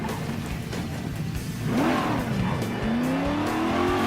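Race cars revving at a standing start in the video game Burnout Paradise: engine roar climbs into rising revs with a brief tire squeal, loud and close.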